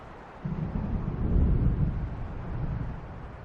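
An approaching thunderstorm in the video game Alan Wake Remastered rolls in as a deep, sustained rumble of thunder that swells and fades.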